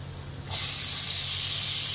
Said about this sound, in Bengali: হলুদ আর জিরার গুঁড়ো, তাই দিয়ে দিচ্ছি চাল কুমড়োটা।